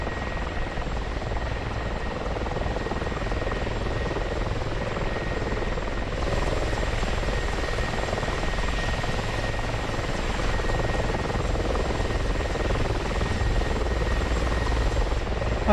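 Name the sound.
helicopter rotor in DCS flight simulator video game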